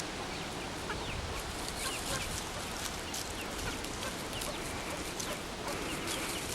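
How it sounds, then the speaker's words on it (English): A hen clucks among her chicks in a free-range flock on a hilltop farm, with soft repeated clucks and faint peeps over a dense, steady outdoor background. "Here's the imaginatively named Goldie with her chicks."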